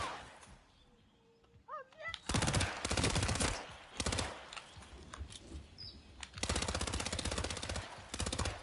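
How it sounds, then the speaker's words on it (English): Gunfire in Hitman: World of Assassination, with rapid automatic bursts that are loud and close, broken by short pauses, and a brief quieter stretch of ambience and faint voices before the shooting starts. "Hey, there's somebody shooting."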